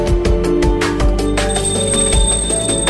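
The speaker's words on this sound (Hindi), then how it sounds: "घंटी बजाकर सारे भगवान को मैंने जगा दिया।" A small Hindu prayer bell rung rapidly and repeatedly during home worship, bright metallic strikes close by, settling into a lingering shimmering ring.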